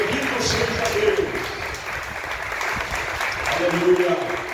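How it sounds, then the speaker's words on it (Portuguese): Church congregation applauding steadily throughout, a broad wash of clapping with voices audible beneath it. "Dê uma salva de palmas mais forte para Jesus"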